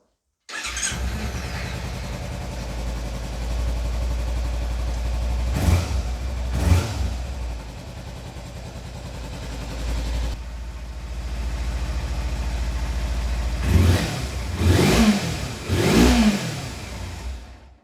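A small motorbike with a standard exhaust idles with a mild, even putter, then blips the throttle in short revs, a couple early and a quick cluster near the end, all fairly quiet and unaggressive.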